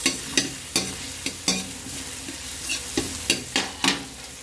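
Garlic, onion and ginger sauté in a pan for a mussel soup, with a constant sizzle under rhythmic, fairly loud spatula strokes that scrape and clack against the pan every fraction of a second.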